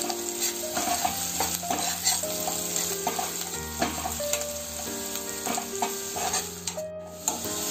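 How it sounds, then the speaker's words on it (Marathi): Onion and garlic sautéing in oil for a dried-fish chutney: steady close sizzling and frying with stirring scrapes, under a continuous musical tone, no talk. "आता हा चांगला कांदा लसूण आपण हे तेलामध्ये परतून घेऊया"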